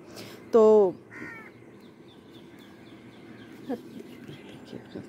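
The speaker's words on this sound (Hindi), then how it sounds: "कौवे भी डिस्टर्ब कर रहे हैं" Crows cawing among rosewood trees in cool morning air: one loud close harsh caw early on, followed by a shorter call and fainter scattered bird sounds against a quiet background.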